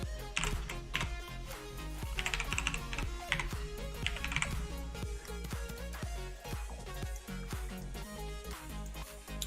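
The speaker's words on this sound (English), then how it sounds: "Just typing the players' names in here." Fingers type on a computer keyboard, entering chess players' names, a quick, close run of clicking keystrokes with a short burst of faster typing, over faint background music.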